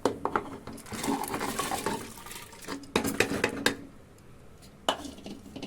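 Potatoes and dal are tipped into boiling water in a pressure cooker: close clattering of metal utensils, splashes and stirring in a busy run, then a pause and a final clank.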